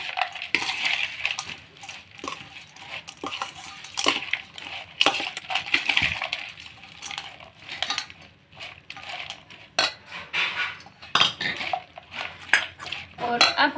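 Bhelpuri ingredients with red chilli powder and garam masala being mixed in a bowl with a spoon, heard as steady close metallic clinks and scrapes with dry rustling crunch of puffed rice throughout.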